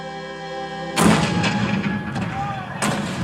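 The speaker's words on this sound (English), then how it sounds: "The cannon spoke for war." Cannon fire at Fort Sumter in a staged historical show: two heavy booming blasts, the first abruptly cutting off a sustained musical tone and the second following about two seconds later, each rumbling away loudly.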